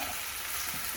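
Ginger-garlic paste being stirred in a hot frying pan, a steady hiss of sizzling oil with faint spoon movement, brief and continuous.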